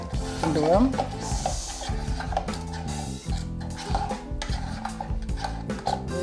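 A spoon stirs thickening payasam in a pot with cardamom powder added, making repeated thick scraping strokes close by. A voice is briefly heard near the start.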